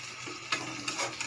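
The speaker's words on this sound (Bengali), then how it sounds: "ওই পিঠটা হলে তারপর একটু খুন্তি দিয়ে নাড়িয়ে দেব" A spatula turns small mourola fish frying in hot oil, giving a quiet steady sizzle with a few scraping strokes from about halfway through.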